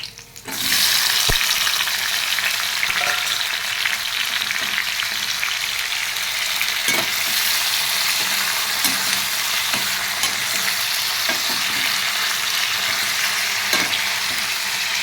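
Garlic, green chillies, onions and tomatoes fry in hot oil in a pan, giving a loud, steady sizzle that runs unbroken, with a few faint clicks of stirring and no talk.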